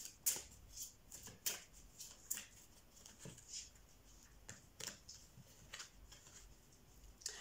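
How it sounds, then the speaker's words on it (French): Tarot cards fall and slap onto a table in a quick scatter of crisp, papery flicks and taps, irregular and close, with soft rustling between them. "je fais tomber toutes mes cartes"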